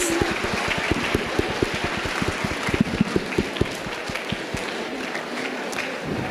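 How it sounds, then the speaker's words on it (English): Audience at a school Teachers Day quiz event giving a round of applause, a dense patter of clapping with sharper individual claps standing out near the start before it thins and fades toward the end. "Can we have a round of applause, please?"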